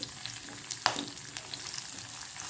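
Cumin, curry leaves, chopped garlic and green chili sautéing in hot oil, an even close sizzle with a sharp crackle and spatter near the start, no voices.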